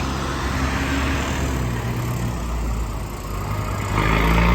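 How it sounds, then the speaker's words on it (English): A city bus rumbles past nearby, a steady broad engine and road roar filling the whole moment and swelling slightly louder toward the end. "Excuse the bus."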